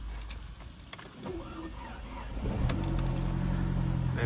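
An Audi A4 cabriolet starts after its battery has been replaced, with a soft key click followed by the engine catching and settling into a steady low idle hum that grows louder and holds.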